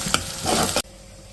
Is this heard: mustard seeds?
yes